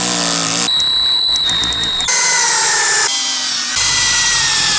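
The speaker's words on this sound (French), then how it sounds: "J'essaye de tellement le visser que ça traverse aussi le tasseau et ça se visse dans la planche." A power screwdriver whines at a high pitch as a screw is driven through a batten into a wooden plank, the motor tone shifting and straining in several stretches with short changes in speed.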